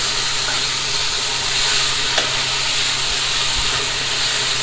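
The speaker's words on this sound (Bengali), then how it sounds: "পোলাওয়ের চাউল যেভাবে ভাজা হয় পোলাও যেভাবে রান্না করা হয় আমি ঠিক সেভাবেই রান্না করি একদম ভাজা ভাজা করে" Polao rice fries in a hot pan with a loud, continuous sizzle and hiss, broken by occasional scraping stirs, heard up close.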